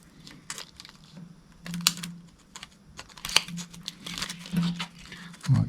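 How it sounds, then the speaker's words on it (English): Body moulding tape is pressed and smoothed onto a full-face helmet for a GoPro chin mount, giving close, soft crinkling, ticking and rubbing sounds in irregular bursts. "next I'm just sticking some of the body moulding tape along the contact section there where it hits the helmet"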